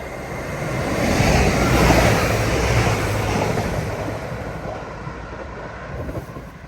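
An express train bound for Leeds runs through a station without stopping, a broad rumbling roar swelling to a peak then slowly fading as it passes, recorded outdoors near the line with no talk.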